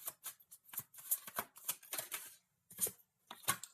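Tarot cards are shuffled and drawn by hand, giving a quiet, close series of brisk papery riffles and snaps in irregular bursts, with short pauses between them.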